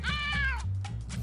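A cartoon cat meows in the Flash escape game The Great Escape: one drawn-out, wavering meow close up and loud, followed by a short, softer second mew, with game background sound underneath.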